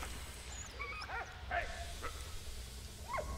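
A dog in the World War I video game Valiant Hearts gives a few short yips and whimpery barks, scattered and fairly close over a low background rumble.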